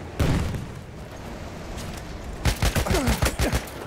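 Gunfire in the Battlefield 1 video game: scattered shots at first, then a rapid volley of sharp, loud cracks about halfway through, ringing out alone with no talking.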